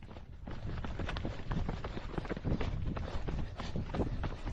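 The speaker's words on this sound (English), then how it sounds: "Just a lot of footsteps." Many trail race runners' footsteps patter and crunch in quick, overlapping rhythm at close range during the Tenerife Bluetrail by UTMB, with light wind noise across the microphone.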